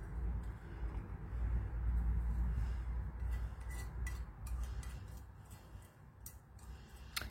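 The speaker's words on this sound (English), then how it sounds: "It takes a while to mix it with the Gum Arabic." Pigment being mixed with gum arabic, faint scraping and ticking strokes repeating irregularly over a low steady rumble, close and quiet, with no voices.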